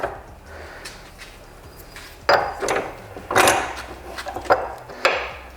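Metallic clunks and scraping knocks as a small Amazon mini press brake is set into a bench vise jaws in a garage, a few sharp close impacts after a quieter stretch, with no talking.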